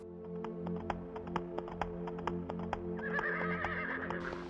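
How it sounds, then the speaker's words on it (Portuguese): A horse whinnies over a rhythmic clip-clop of hooves, with regular sharp taps and a brighter neigh near the end, fairly close and without speech. "ela está vendo um cavalo"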